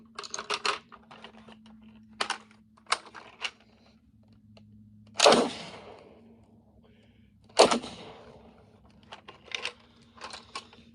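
Two loud, sharp blasts from a Millsberg Model 2022 16-gauge shotgun about two seconds apart, each with a short echoing tail, amid quiet clicks and handling noises.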